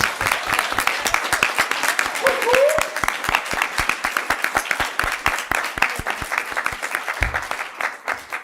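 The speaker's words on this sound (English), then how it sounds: "please just give a round of applause" Sustained applause from an audience at a regular city council session, steady dense clapping throughout with voices mixed in, heard just before the youth mayor speaks.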